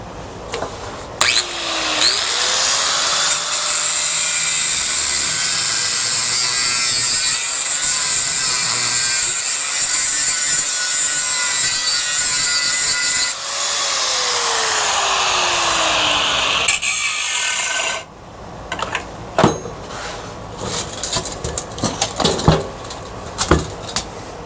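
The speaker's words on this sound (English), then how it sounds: "we'll just grind that off." A power grinder cuts into die-cast metal on an old fan, whining loudly and steadily for about fifteen seconds with pitch shifts as it bites, then stops, followed by scattered clanks and handling noises.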